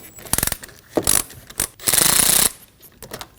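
A 10mm ratchet wrench loosens a bolt behind the glove box of a 2003-2006 Subaru Baja during HVAC blower motor work, giving several close, loud bursts of rapid pawl clicking separated by brief pauses.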